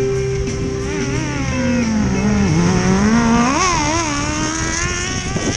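At a drag race event, an Indian FTR motorcycle and a superbike roar loudly side by side, engines revving and rising in pitch as they accelerate, with a continuous, close, dominant engine drone throughout.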